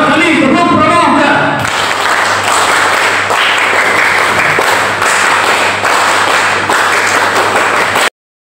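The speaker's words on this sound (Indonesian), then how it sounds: "Dua kali tepuk pramuka." An audience at a scout movement gathering joins in scout clapping, a loud, dense burst of many hands that fills several seconds after a short voice opens.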